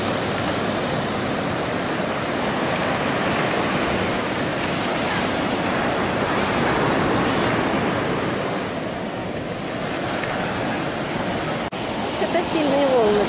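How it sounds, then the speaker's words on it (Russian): Continuous roaring Pacific Ocean surf fills the air, broad rushing wash of waves breaking and swelling, loud and close, with a faint voice near the end. "Сильные волны так купаться. Невысокие, но все равно классные."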